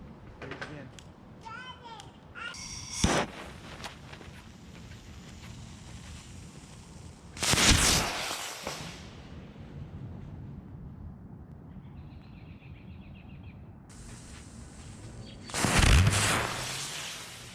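Mighty Max Space Flyer fireworks go off outdoors, with a few sharp bursts and whistling or crackling flares rising over steady background noise, while children and adults talk throughout.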